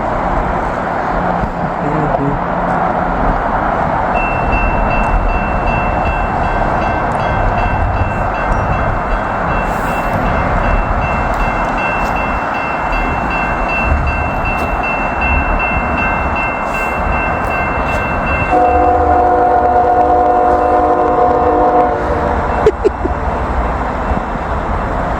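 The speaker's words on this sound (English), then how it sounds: "Got a train coming." A New York Central heritage unit locomotive rolls past on a chilly snowy day, a loud continuous rumble of engine and wagons with a sustained horn blast late in the pass.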